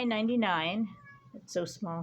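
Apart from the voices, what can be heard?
pet cat meowing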